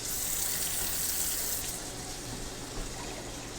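Water runs steadily from a kitchen tap in a close, even hiss while pickles are being prepared for canning, with the flow shifting slightly partway through and no talking over it.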